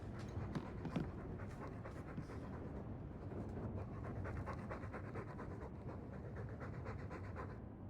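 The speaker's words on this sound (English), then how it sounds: "All that noisy dog breath, day in, day out, make him stop." A dog in Dragon Age II pants quickly and rhythmically indoors, each breath a soft, evenly spaced huff. It carries on steadily, fairly close but quiet, with no talking over it.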